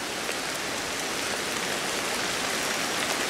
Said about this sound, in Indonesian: Aduh, berat hujan.